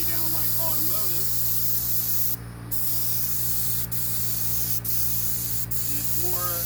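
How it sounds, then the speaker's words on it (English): A large sprayer, used much like a big rattle can, paints an old jon boat. A loud, continuous spray hiss dominates with a few brief interruptions, while a person talks faintly at the start and end. "it's more of a kind of like rattle canning with a really big rattle can"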